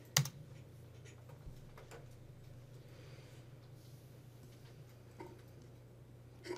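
Someone typing on a computer keyboard, sparse isolated clicks at start, around five seconds and at the end over a steady low hum, faint and quiet.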